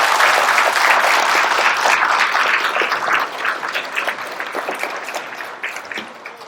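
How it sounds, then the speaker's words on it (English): Crowd applauding veterans at an outdoor Veterans Day parade, loud dense clapping that gradually thins and fades over several seconds. "Let's clap for our veterans."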